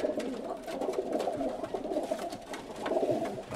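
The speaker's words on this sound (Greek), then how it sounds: "Θα αφήσουν εποχή αυτά τα περιστέρια." Pigeons coo at a pigeon club in Katerini, Greece, several birds giving soft, repeated throaty calls close by in a continuous, overlapping murmur with no talking.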